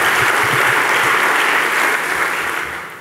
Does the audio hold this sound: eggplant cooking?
no